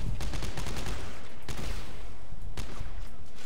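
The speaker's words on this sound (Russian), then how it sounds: "Темп стрельбы заметно улучшился." Automatic weapon fire in the sci-fi horror game Dead Space 3 rattles out in rapid, loud bursts, several volleys close up and heavy with low thumping impacts.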